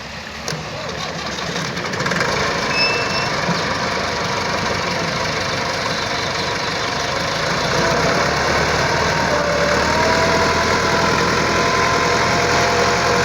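A 2010 Massey Ferguson 375 tractor engine runs steadily while driving a 54-blade rotavator, a constant close diesel drone that grows slightly louder after the first two seconds, with no voices.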